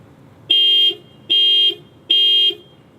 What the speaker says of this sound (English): Let's go ahead and push that panic button.